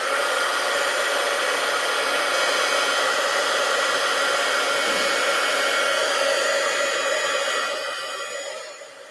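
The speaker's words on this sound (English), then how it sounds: "And I'm drying because I don't want the next layer to mix too much with the layer that's on here." A hair dryer blows on a layer of paint, a loud steady whooshing whine held close for several seconds before it fades away at the end.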